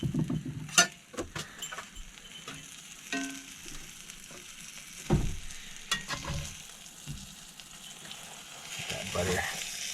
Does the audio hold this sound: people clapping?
no